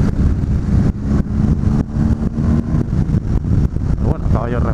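A BMW R 1250 GS motorcycle on knobbly tyres rides with a loud, rough engine drone and heavy wind rush that rises and falls in uneven surges, with a person speaking over it.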